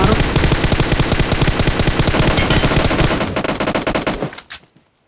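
Sustained automatic M416 rifle fire in the mobile game PUBG, a loud rapid unbroken burst of shots that slows into a few final spaced rounds before cutting to near silence.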